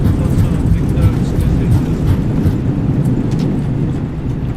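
Thrust reversers on a Jetstar Asia airliner roar during landing in Microsoft Flight Simulator on the Bangkok to Singapore run, a continuous, heavy low rumble with a voice talking over it.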